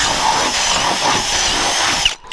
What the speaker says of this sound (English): We'll drill the hood holes bigger.